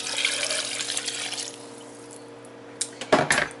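Two cups of water poured while making pizza-flavoured kale chips, a brief splashing pour up front that fades out, a pause, then a short sharper splash and trickle near the end, close and fairly quiet.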